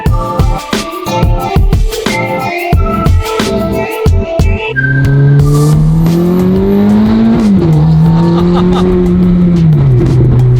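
A Ferrari 430 on a cruise, with engine noise that starts choppy and shifts through gear changes, then builds to a loud, sustained rev with rising and falling pitch, heard close from inside the car.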